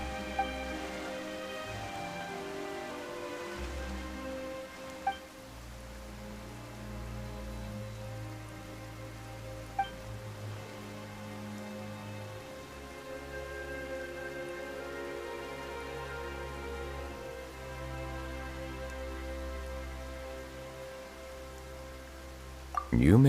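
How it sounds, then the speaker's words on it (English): Steady rain falls in Genshin Impact, a soft continuous patter lying beneath layered game music with a low drone, quiet and even throughout without any speech. "Why is it raining all of a sudden?"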